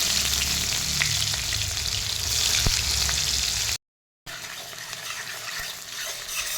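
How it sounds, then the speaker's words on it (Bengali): Chopped onions fry in hot oil in a wok for a chicken dum biryani, a steady close sizzle with faint stirring scrapes and a brief gap of silence midway. "দেখো পেঁয়াজগুলো আমি লাল লাল করে ভেজে নিচ্ছি"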